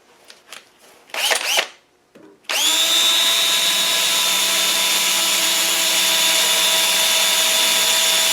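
An electric drill drills out a steel pin from a vehicle steering joint: a few short bursts of the motor starting and stopping, then a loud, sustained high whine that runs steadily to the end, with no talking.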